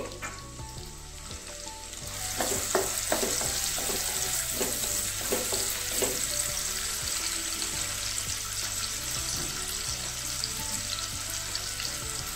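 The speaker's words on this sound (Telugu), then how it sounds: "సన్నగా తరుక్కొని ముక్కలు బాగా వేగనివ్వాలి" Thinly sliced onion fries in about two tablespoons of oil for a village-style mushroom curry, a steady close sizzle with occasional stirring knocks and a faint low hum underneath.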